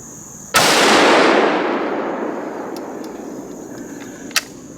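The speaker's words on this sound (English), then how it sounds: "we just put a shot on a big wide 8 that we've been hunting" A single loud, sharp rifle shot is fired at a big eight-point deer on the first day of rifle season in South Carolina. The long rolling echo fades over several seconds, followed by a faint click.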